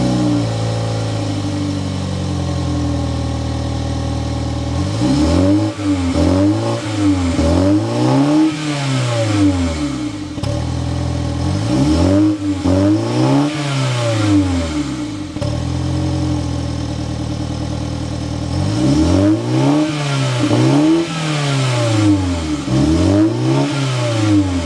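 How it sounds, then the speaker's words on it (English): A 2023 Mini Cooper Countryman with a twin-power turbo engine is revved repeatedly, each throaty exhaust blip rising and falling in loud, close bursts with steady idle between them. "Let's go inside, start it up so we can hear that exhaust note."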